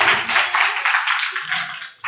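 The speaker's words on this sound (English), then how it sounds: "Give back big applause for him." A class applauds a student with loud, close, continuous clapping from many hands, a dense rapid patter that lasts throughout.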